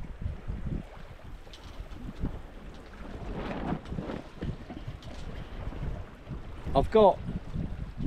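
A small sailboat under way with sails set off the Cornish coast, steered by tiller, carries a steady rush of wind and water past the hull, with brief speech and a short bird-like chirp near the end.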